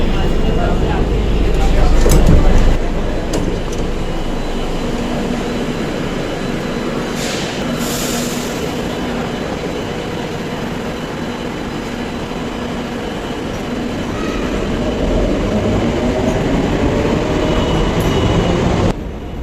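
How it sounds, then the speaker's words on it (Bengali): Metro train riding along as heard from inside a fairly empty carriage on a cold evening, a steady loud rumble of wheels and car noise throughout with a brief swell near the start and faint squeals. "ফাইনালি সিট পেয়ে গেছি, মোটামুটি ফাঁকাই ছিল মেট্রো।"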